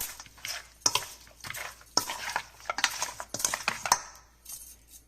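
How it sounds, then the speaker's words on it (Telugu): Mutton pieces mixed with oil and masala in a steel bowl for a hotel-style curry, a spoon scraping and clinking against metal in irregular bursts with soft wet squelches between, close by and without talk. "ఆయిల్ వేసుకుంటున్నాను. వేసుకొని ఈ విధంగా కలుపుకోవాలి."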